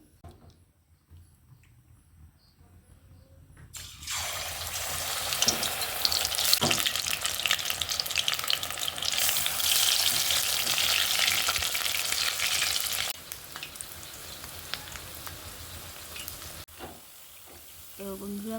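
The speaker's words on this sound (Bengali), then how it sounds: "পকোড়ার জন্য বেসনটা গুলিয়ে নিয়েছি, এবারই পকোড়াটা ভেজে নেব।" Gram flour batter pakoras are deep fried in hot oil. After a quiet start, a loud, close bubbling sizzle takes over, holds for several seconds, then drops back to a softer crackle.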